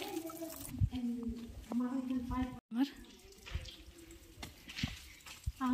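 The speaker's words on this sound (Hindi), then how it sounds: "और यहाँ पे पानी है, पाइप से गिर रहा है" Water pours from a pipe inside a dark tunnel, running and splashing steadily alongside dripping and scattered knocks, with a brief dropout midway and some background voices.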